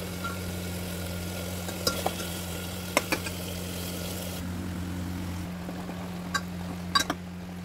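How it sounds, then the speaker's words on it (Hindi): Quiet frying sizzle of spices tempering in a pressure cooker, with a few sharp clinks of a spoon against the pot, over a steady low hum. "कुकर विच मैं तड़का लगा रही"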